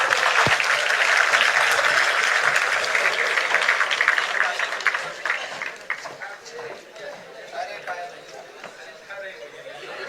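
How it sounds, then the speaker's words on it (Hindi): Loud audience applause at a gathering, a dense wash of clapping that starts strong and thins out over ten seconds into scattered, more distinct claps, with faint crowd murmur beneath. "बहुत जोरदार तालियां"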